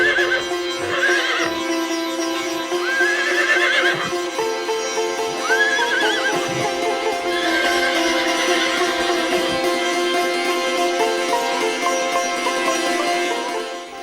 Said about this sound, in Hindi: ये घोड़ी पुनः आ गई।